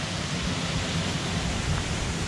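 Water rushes steadily through the diversion waterworks at the Oconaluftee Visitor Center, a continuous broadband roar with no breaks, close and fairly loud.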